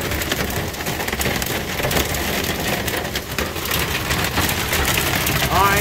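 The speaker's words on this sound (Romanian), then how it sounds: "grindina asta o să le afecteze." Steady, dense patter of rain and hail drumming on a car body, heard from inside the cab, loud and continuous throughout, with no clear speech.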